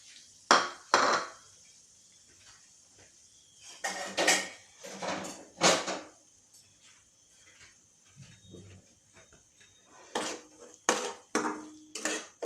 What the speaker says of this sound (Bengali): ভালো করে সুজিটাকে এরকম করে নেড়ে চেড়ে একটুখানি ভালো করে ভেজে নিতে হবে।